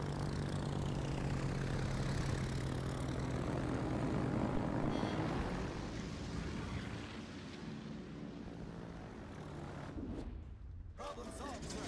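Fighter planes from a support carrier in World of Warships drone with a steady propeller-engine roar that fills the scene, then thin out toward the end, with game sounds mixed in.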